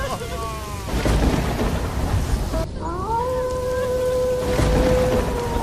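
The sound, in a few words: heavy rain with thunder, story sound effect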